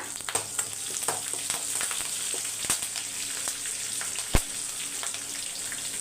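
Curry leaves fry in hot oil, a loud steady sizzle with sharp crackles and pops close by, including one strong pop near the end, and no voices.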